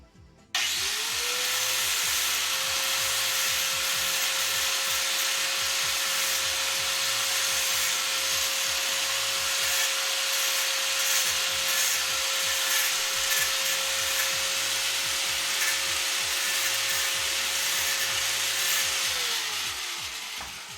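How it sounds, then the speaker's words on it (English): A grinding wheel deburring a freshly made metal spoon in a lab setting runs as one continuous, steady whine with a hissing rasp, spinning up at the start and winding down after about twenty seconds, close and fairly loud. "A little deburring with the grinding wheel."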